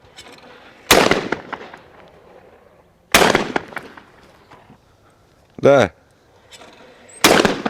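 Shotgun blasts ring out across an outdoor sporting clays range as clay targets are shot, three sharp booming reports spaced a couple of seconds apart with a brief tonal thrower sound between them, and someone briefly speaks.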